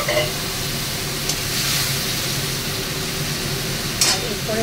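Fish frying in a pan as a little water is added, giving a steady close sizzle with a couple of sharp hissing bursts, while someone talks over the cooking.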